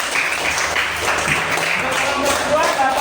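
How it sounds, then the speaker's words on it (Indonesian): Classroom students clap for a group after a teaching session, a steady patter of applause running under a teacher's voice. "Kasih tepuk tangan untuk kelompok A"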